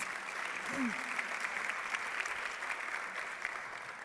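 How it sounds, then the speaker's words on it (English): A dinner crowd gives Governor Martinez sustained applause, a broad wash of clapping that holds steady throughout, with a brief voice heard near the start. "Another round of applause for Governor Martinez."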